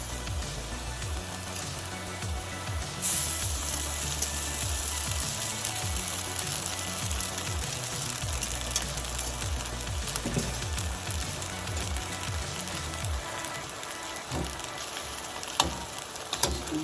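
Rice noodles for Singapore noodles fry with a steady, close sizzle in the pan while two spatulas stir them gently, with occasional soft scrapes and clinks.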